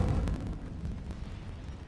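Incendio fire spell cast in a Harry Potter video game, a loud, rumbling whoosh of flame with a sharp burst near the start, sustained and roaring for about two seconds.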